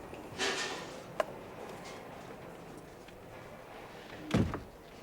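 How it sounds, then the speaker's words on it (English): A room door is pushed shut with a single solid thunk partway through, preceded by a softer knock and followed by quieter movement in the room. "Shut the door."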